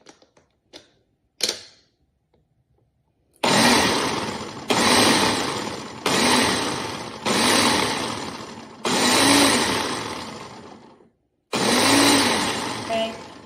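A blender whirs in six loud bursts of a few seconds each, pulsing on and off while blending ginger shot ingredients, after a few faint clicks and a brief knock at the start.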